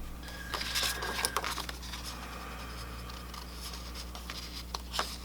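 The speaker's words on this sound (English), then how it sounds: "I have to take out the page and trim it from behind" Sticker page edges being trimmed from behind with scattered light papery cuts and rustles, close and fairly quiet, with no one speaking.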